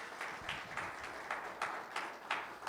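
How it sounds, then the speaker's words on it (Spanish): A church congregation applauds in praise of Jesus Christ, a steady wash of many hands clapping, moderately distant, with rhythmic surges and no single voice standing out. "Denle un aplauso a nuestro Señor Jesucristo"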